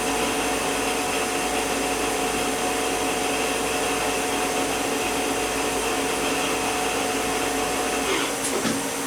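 A 1996 HAAS HS-1 CNC horizontal machining center spindle running at 2,000 RPM, a loud, steady whirring drone with a constant tone, unchanging until a brief shift at the very end.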